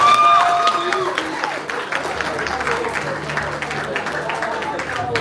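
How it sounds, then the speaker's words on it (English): Applause from a gala dinner party crowd as a vice-presidential contestant is introduced, a steady mass of clapping with voices and crowd noise mixed in, loudest at the start and then holding level. "A round of applause."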